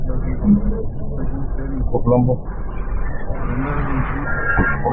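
A car engine hums and revs lightly during a driving-school lesson, a low steady rumble inside the cabin under an instructor's continuous talking.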